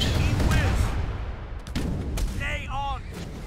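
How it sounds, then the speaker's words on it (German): Cannon fire booms repeatedly in the Age of Empires III strategy game, a series of heavy blasts over continuous battle noise with clanging and game effects, fairly loud throughout. "Die Kanonen hauen so richtig ein."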